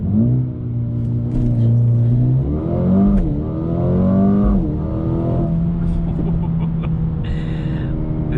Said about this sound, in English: So at first there was a little bit of turbo lag, but then after that, this thing accelerated super hard